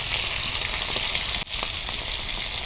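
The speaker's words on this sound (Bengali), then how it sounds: "এক পিঠ ভাজা হচ্ছে" Fish sizzles and crackles steadily in hot oil while one side fries, a dense frying hiss running throughout with one brief dip in the middle.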